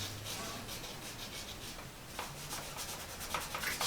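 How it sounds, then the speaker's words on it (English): Conte crayon rubbed flat across paper, a steady dry scratching and rasping with short repeated strokes, close and fairly quiet. "rub them flat across the surface so that you create"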